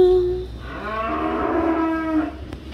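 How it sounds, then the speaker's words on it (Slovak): A young bull on a farm gives one long, drawn-out moo close to the microphone, rising and then falling in pitch before trailing off, with a faint low background hum and no talking. "Niečo sa tam robí, tak preto bučí."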